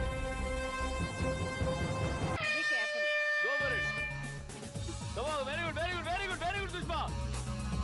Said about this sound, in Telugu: హార్న్ రాగానే మీ టైం స్టార్ట్ అవుతుంది